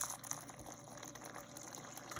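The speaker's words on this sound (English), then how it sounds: "This will turn our pump back on" A Brewzilla 3.1.1 brewing system's pump recirculates water, giving a faint, steady trickling and gurgling wash of liquid that runs unbroken with no voices.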